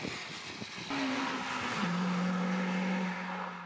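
A Honda Civic Type-R on a slippery road, its engine rising into a steady, moderately loud drone heard from a short distance.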